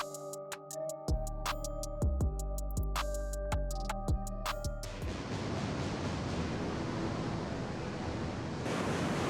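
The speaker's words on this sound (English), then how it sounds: "Sometimes, waves become more terrifying than ever, creating surging and intense waters." Storm waves surge along the coast in Spain, a loud, continuous roaring surf that follows a few seconds of plucked, tuneful music.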